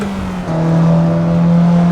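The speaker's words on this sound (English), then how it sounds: "I've made some further refinements to the MX-3 here." Virtual Mazda MX-3 in the racing game Assetto Corsa, its engine droning at a steady tone that swells slightly louder and rises a little in pitch after a brief dip.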